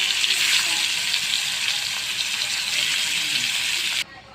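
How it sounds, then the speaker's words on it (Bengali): Shingi fish fry lightly in a pan, giving a loud, steady hiss of sizzling oil close up that cuts off abruptly near the end. "এখানে একটা প্যান বসাচ্ছি, ফেরত আমি সবগুলো মাছ একটু হালকাভাবে ভেজে নিব।"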